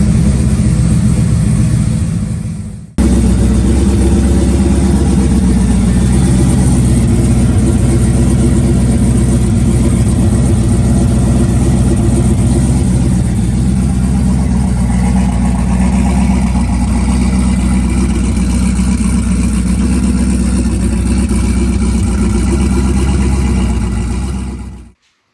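A vehicle engine settles into a steady, loud idle right after starting, warming up with a constant deep drone for over twenty seconds before cutting off abruptly.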